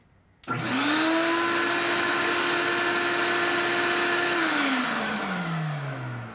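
Shop vacuum fitted with an extension hose running in a workshop, starting abruptly with a steady loud whine and roar and holding it, then the pitch sags near the end. No talk.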